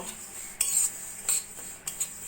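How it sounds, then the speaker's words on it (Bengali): Sesame seeds are stirred while roasting in a wok over medium flame, with a few sharp metal spatula scrapes and clinks against the pan, close up and with no talking. "আস্তে আস্তে নাড়া দিয়ে তিলটাকে আমি ভেজে নেব"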